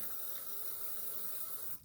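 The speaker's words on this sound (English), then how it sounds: "here is the water coming out of the faucet" Water runs from a faucet into a cup as a steady, full hiss that stops abruptly near the end, heard alone without talk.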